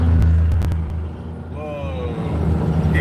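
A truck's engine brake (jake brake) roars loud and close from inside another truck cab, a heavy low rumble with rising tonal whine partway through, steady throughout.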